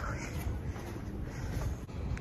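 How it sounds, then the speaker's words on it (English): Steady wind buffeting a microphone, a loud continuous low rumble and roar with no other clear sound. "It's mostly windy though, not too bad."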